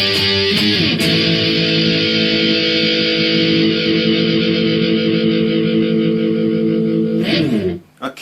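Electric guitar playing the outro of a song, ringing out as one loud sustained chord for several seconds before stopping abruptly.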